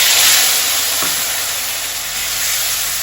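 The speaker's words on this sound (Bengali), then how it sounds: "টমেটো কেটে রেখেছি ওটা দিয়ে দেবো" Chopped tomatoes drop into hot oil in a wok with turmeric, giving a loud, continuous sizzle and hiss and a brief thud as they land.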